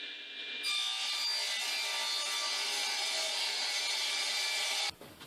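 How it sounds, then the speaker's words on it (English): Power saw cutting a base from old plywood, a loud, steady, close high-pitched whine through the board for about four seconds before it cuts off abruptly. "we'll start by cutting a base out of some crappy old plywood"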